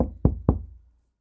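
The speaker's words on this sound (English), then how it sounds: "knocking at the door," Two sharp knocks rap on a wooden door, close and evenly spaced, followed by a short fading resonance and then silence, played as a sound effect in a told fairy tale.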